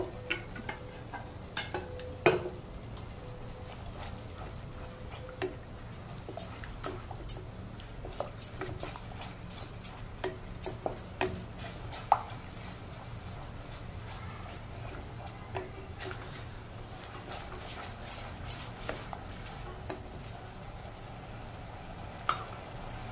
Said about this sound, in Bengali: তো এটা আমি কন্টিনিউয়াসলি স্টার করতে থাকবো, না হলে কিন্তু কেটে যেতে পারে